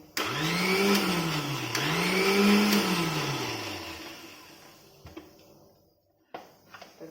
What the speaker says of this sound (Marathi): आता पाणी ओतते आणि एक मिक्सर फिरवून घेते